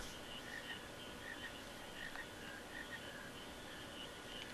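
A frog croaking in the Final Fantasy IX video game, soft repeated chirpy croaks over a steady, hissy game background at low volume.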